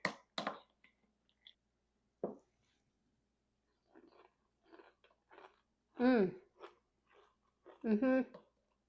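Close, crisp crunching of someone chewing homemade crunchy cereal with cold almond milk in scattered bites, quiet between chews, with a few brief vocal sounds mixed in.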